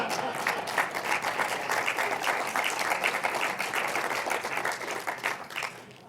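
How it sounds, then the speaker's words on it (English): A sustained, steady round of applause fills the room from a large audience at a celebration of NAFTA's 20th anniversary, evenly dense and moderately loud throughout, easing slightly at the end. "I knew that was an applause line"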